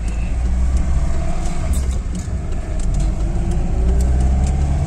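A car drives along toward a village pond, with a steady loud engine drone and road rumble heard from inside the vehicle throughout, no talk.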